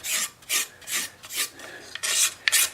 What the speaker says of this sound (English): I just have a little scraper one of my viewers provided me.